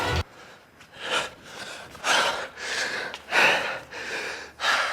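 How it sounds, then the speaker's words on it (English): Heavy breathing after a run: rapid, rhythmic gasping breaths repeat about once a second, close and fairly loud, with no talking. "I don't know why I'm breathing so hard."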